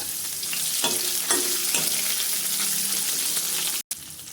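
Chopped onions hit a hot tempering of chillies, curry leaves and garlic, bursting into a loud steady sizzle with a few sharp crackles and stirring scrapes, heard alone and close up.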